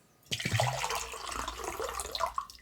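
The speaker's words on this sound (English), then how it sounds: "I'm just filling a G4 branded mug with water." Water runs from a tap into a G4 branded mug, a short splashing fill that starts abruptly, gurgles steadily at close range, and tapers off after a couple of seconds.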